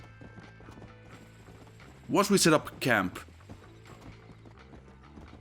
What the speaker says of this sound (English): So let's just get him there on the horse